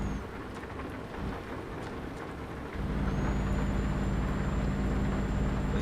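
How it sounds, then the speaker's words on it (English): Heavy rain in the Euro Truck Simulator 2 video game, heard in the UK en route to Plymouth: a steady dense hiss with low rumble that grows louder partway through and then holds constant. "we do have some rain here in the UK as we head to Plymouth."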